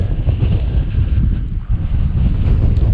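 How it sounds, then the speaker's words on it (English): Strong wind buffets the microphone in a steady low roar with gusty rumbling and no voices, on a hilltop in the Peak District. "It's very windy."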